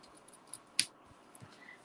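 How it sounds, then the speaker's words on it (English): A single crisp snip of ribbon scissors stands out in a quiet room, followed by a few soft clicks and light handling sounds. "these are my ribbon scissors"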